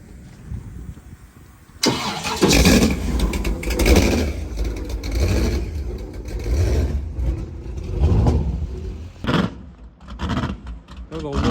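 A jet boat engine with a blower, the Homewrecker hydro jet boat, kicks in abruptly and revs hard with loud, rough exhaust roar that rises and falls over several bursts, close by and dominating the scene.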